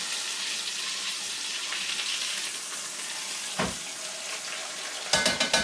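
Beef pot roast sears in a hot pan, a steady broad sizzle holding throughout, with a soft clink near the middle and a few louder scraping clatters of a utensil at the end.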